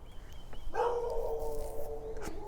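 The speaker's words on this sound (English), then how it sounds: "there's a dog barking" A dog barks once or twice in the distance on a rural property, faint under a steady tonal drone and background hiss.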